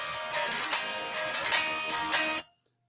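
Guitar plays a chord progression from a song, in a tutorial for a cover: dense, bright strummed chords with rhythmic accents, steady for a couple of seconds before stopping abruptly.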